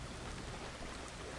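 Rain in the video game Farmer's Dynasty makes a dense, even hiss that fills the short stretch without a break, heard alone at a low, steady level.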